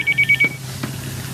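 A cellphone rings in a short burst of rapid electronic trills, a clear chirping pattern that cuts off about halfway through, followed by a faint knock against a quiet room.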